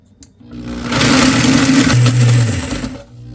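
A blender grinds dehydrated sweet potatoes into powder, its motor spinning up to a loud, steady whirring roar that holds for a couple of seconds, then winds down.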